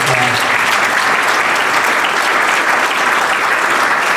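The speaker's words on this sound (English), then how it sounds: "So can we give them another round of applause?" Audience applause at a retirement recognition event in Cambridge, a dense, steady sustained clapping from a large crowd with no break.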